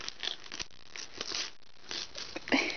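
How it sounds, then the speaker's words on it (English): Christmas wrapping paper being torn open on a present, with several rough ripping and crinkling bursts at close range and no talking. "Tear the paper."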